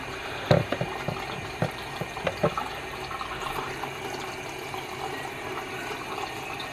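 Water runs steadily into a sink to saturate a human-hair wavy wig, a soft, faint splashing stream broken by a few brief knocks and clicks near the start.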